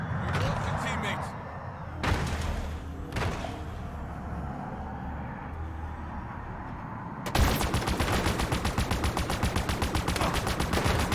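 In the shooter game Halo Infinite, scattered gunshots and impacts ring out amid muffled battle noise, then a loud rapid burst of automatic fire takes over and keeps going to the end.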